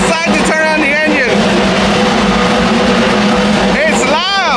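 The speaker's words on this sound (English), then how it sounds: "I was leaving and they decided to turn on the engine" A race car engine idles loudly in the Sebring paddock with a steady, heavy rumble, and rising and falling whines swell near the start and again at the end, close by. People talk over it.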